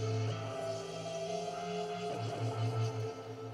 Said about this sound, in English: synth from Massive